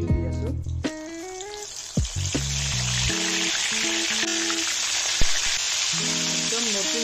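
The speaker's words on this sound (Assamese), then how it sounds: "তেলখিনি গৰম হ'ব দিছোঁ সেইটো গৰম কৰি ল'লে বেঙেনাটো লাগি নধৰিব আৰু বেঙেনা দি আছোঁ" Brinjal (eggplant) pieces frying in hot oil in a home kitchen: a steady broadband sizzle continues throughout, with someone talking over it.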